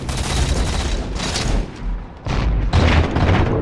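Halo 4 multiplayer gunfire and grenades make rapid bursts of loud, booming shots and blasts in two dense clusters separated by a brief lull, close and with no talking.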